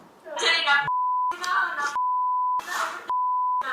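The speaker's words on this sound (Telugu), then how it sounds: "మీరు బీప్ వేసుకోండి దయచేసి" A steady censor beep tone repeatedly blanks out a woman's speech in a leaked video call, three long flat beeps alternating with short bursts of talking.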